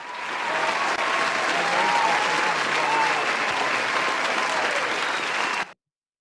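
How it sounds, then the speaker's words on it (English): Audience members applauding, a steady, dense burst of clapping with a faint murmur beneath, holding evenly for several seconds before cutting off abruptly. "That was some audience members applauding you because you were definitely right."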